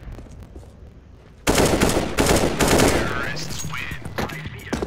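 Gunfire in a video game breaking out suddenly after a quiet start, dense rapid bursts that stay loud then ease slightly, with a voice speaking over it.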